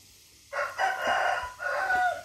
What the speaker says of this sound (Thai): ฟังกับเสียงไก่ขัน